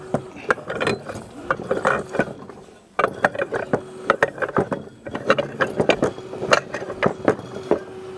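A wrench ratchets bolts out of a snowmobile clutch helix in quick, close, metallic clicking bursts, pausing briefly midway before cranking resumes in a steady rhythm, with no talking.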